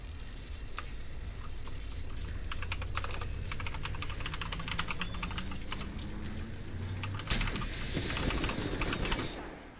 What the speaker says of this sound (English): Excuse me, I'm typing.